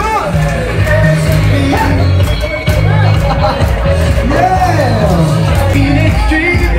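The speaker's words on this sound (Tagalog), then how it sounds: "Ladies and gentlemen, sa pasigawang palakpak na may sigawan!" A birthday celebration crowd applauds steadily with cheering, whoops and shouts, loud and close, and voices call out over the clapping.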